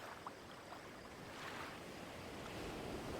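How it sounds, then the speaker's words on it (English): Ocean surf washes in and draws back, a soft continuous hiss with gentle swells, distant and low in level, with no voices. "He could hear the waves coming in and going out."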